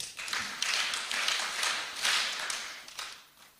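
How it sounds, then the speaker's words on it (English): An audience at an evening school language and values lesson claps for the educator, a soft scattered patter of hands coming in uneven waves, modest in volume and fading toward the end. "We can clap for her."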